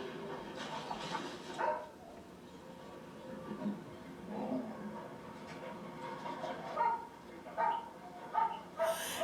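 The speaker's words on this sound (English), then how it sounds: "It's the doggies on the TV." Dogs on a television bark, yip and whimper faintly in a quiet room, in a few short scattered bursts.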